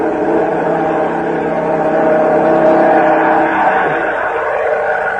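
A steady droning engine roar, meant as a German warplane in a 1945 radio drama, holds loud and constant for several seconds before easing slightly near the end, with no talk over it.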